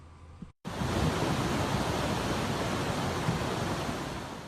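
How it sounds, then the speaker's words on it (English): Floodwater and debris rush through Trabuco Creek in Trabuco Canyon during heavy rain, a loud, steady broadband roar that starts after a short quieter moment and holds without a break. "Floodwater and debris overran the bridge in Trabuco Canyon"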